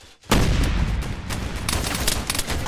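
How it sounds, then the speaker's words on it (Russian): Sustained burst of heavy gunfire in the video game Arma 3 erupts after a brief quiet, loud booming shots rolling together in rapid succession with no talk. "Внимание, выстрел."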